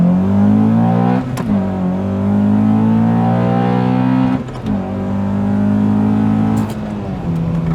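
Naturally aspirated Honda Accord Type S engine revving hard and close, with strong rising harmonic tones through three throttle pulls separated by brief gear-change dips, no talking.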